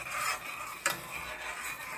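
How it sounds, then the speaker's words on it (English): Margarine sizzling in a pan while making cracker candy, a steady soft crackling hiss with one brief sharp tick near the middle, quiet and close. "my margarine sizzling"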